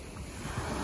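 Ocean surf washing onto a shore beside a railway on the Izu coast, a steady broadband wash with slight swells, mixed with wind noise on the microphone and no talking.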